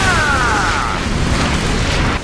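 An anime explosion sound effect during a fight, a loud sustained blast with a rushing roar that holds steady for about two seconds before cutting off.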